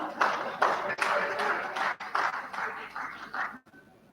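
Audience clapping at a university matriculation ceremony, bursts of applause rising and falling in several waves before cutting off abruptly near the end.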